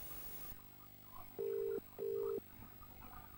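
A recorded telephone call begins after a brief burst of noise: quiet line hiss, then two loud, steady dialing tones of equal length separated by a short gap, followed by faint line noise.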